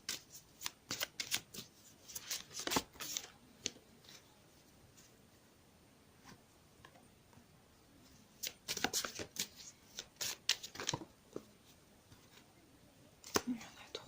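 Cartomancy cards being shuffled and drawn, close crisp bursts of riffling and flicking in two clusters separated by a quieter pause, with soft speech in between.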